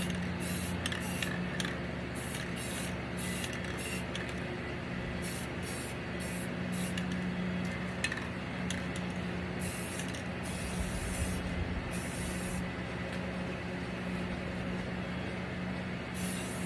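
Aerosol spray paint hisses onto a 22 x 28 inch canvas in repeated bursts of varying length, close and steady, with short pauses between sprays and a faint mechanical hum underneath.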